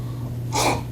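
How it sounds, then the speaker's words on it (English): A single sharp sneeze bursts out indoors during a business school class, brief and fairly close, over a steady low electrical hum. "I'm just gonna sneeze."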